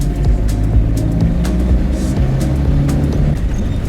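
A van's engine, left a month in the cold, runs with a loud, close, steady rumble and a faint ticking overlay throughout, with no one speaking.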